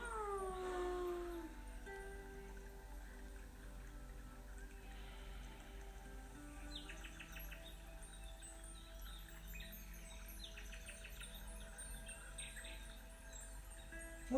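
During a home yoga session focused on backbends, a human voice imitates a cat's meow, a faint drawn-out wavering call at the start, followed by quiet, sparse chirpy sounds over a low steady background.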